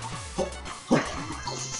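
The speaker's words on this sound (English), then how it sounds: "Now it sounds like we're just a dog throwing up." Retching, gagging game sound effect from Shovel Knight, like a dog throwing up, with a short guttural burst in the middle over a busy layer of game music and effects.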